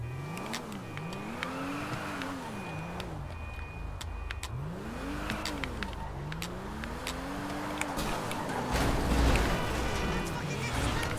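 1994 Mercedes 500E in GTA 5 revving hard over and over, with the engine note climbing and falling in repeated sweeps, loud and close under excited talk.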